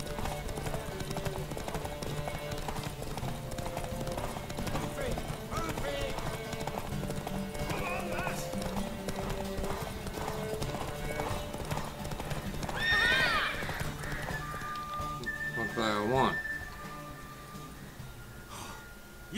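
A horse in the video game The Witcher 3: Wild Hunt gallops with a steady, continuous clip-clop of hooves, then gives a couple of neighs and snorts near the end, set against game music and background ambience.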